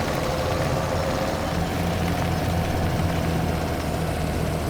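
Tractor engine idling in Farming Simulator 17, a steady low rumble with a constant drone held evenly throughout, no talk over it.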